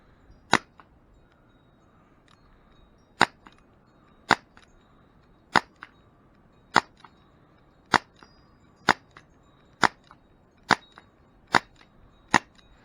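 Elite Force H8R airsoft revolver firing outdoors toward trees, about ten sharp, evenly spaced shots with short quiet gaps between them, each a crisp pop with faint mechanical clicks from cocking.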